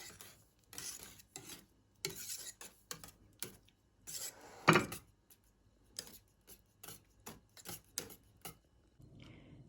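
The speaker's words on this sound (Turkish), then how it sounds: "gıda boyası ekleyeceğim. Kremasına. Şöyle bir karıştıralım." A spoon scrapes and rubs through cream frosting tinted with food coloring for a no-bake layer cake, giving a soft rhythmic stirring of repeated strokes, close and fairly quiet, with brief gaps between them.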